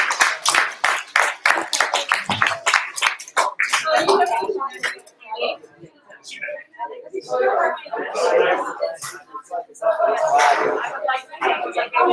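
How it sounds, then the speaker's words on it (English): A small audience applauds after a presentation with a few seconds of sharp, scattered hand claps close by, then people talk over the fading room sound. "one more round of applause for Gage for giving that wonderful presentation"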